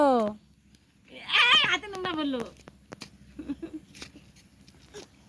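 A cat meows a few times close by, its cries rising and falling, while a person speaks nearby.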